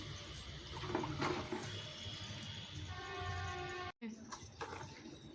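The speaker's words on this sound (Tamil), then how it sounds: "இப்போ தண்ணியில் போட்டு கழுவுறேன்" Water splashes and runs steadily as an item is rinsed, with a brief cutoff near the end before the running resumes.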